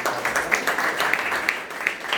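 Church congregation in Chandigarh clapping together for a returning son: a steady patter of many hands, moderately loud and close, with sharper individual claps standing out across a couple of seconds.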